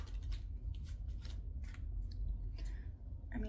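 Tarot cards being shuffled close by, producing a run of quick papery riffles and flicks in an uneven rhythm over a few seconds, with no talk over them.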